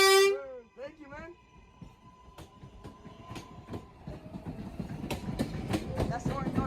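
A Manhattan-bound 4 subway train at Bedford Park Blvd–Lehman College station opens with a loud horn blast. A rising rumble and sharp clickety-clack of wheels over rail joints follow, growing nearer and louder.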